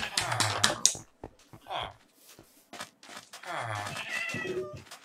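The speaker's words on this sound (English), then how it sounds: "They really got cats up in here." Cats meow repeatedly in a Minecraft village, several short mews heard close by alongside people talking.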